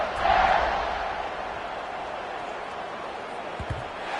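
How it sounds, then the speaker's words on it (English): Crowd noise fills a stadium in an American football video game after a score, a steady broad roar that swells briefly at the start, then holds as a distant, even wash. "this crowd is buzzing after that last score"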